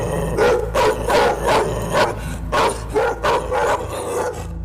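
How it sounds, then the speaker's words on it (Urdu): A dog barks loudly and close by in a rapid run of about eight sharp, evenly spaced barks, some edged with a yelping whine, over a low background rumble and with no talk. "کتا اس سے کچھ فاصلے تک آیا اور پھر وہیں کھڑا بھونکتا رہا"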